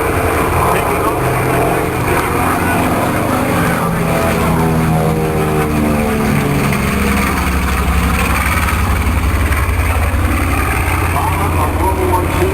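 The engines of a North American Aviation B-25 bomber from World War II run with a loud, steady propeller drone, while a voice talks over it.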